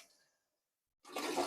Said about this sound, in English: All right, so now we're just going to give it a flush.